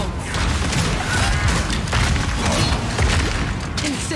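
In Path of Exile 2, armor-piercing crossbow bolts fire in a rapid, fusillade-like string of heavy thumps and cracks that runs for several seconds over constant battle noise.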